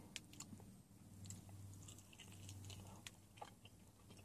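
Close biting and chewing of a Buffalo Wild Wings chicken wing, faint crunchy bites and wet chewing repeating in an uneven rhythm.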